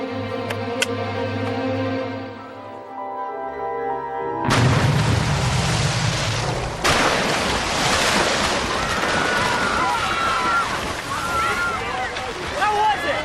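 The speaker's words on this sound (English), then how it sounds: "You call that a splash?" A big water splash in a cartoon hits suddenly as a loud roaring burst, then dissolves into a long rushing, surf-like wash of water that fills the rest of the moment.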